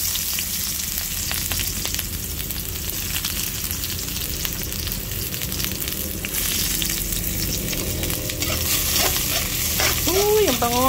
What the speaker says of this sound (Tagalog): mag-isa na po tayo ng bawang natin